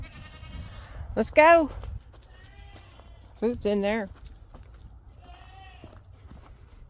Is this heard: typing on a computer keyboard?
no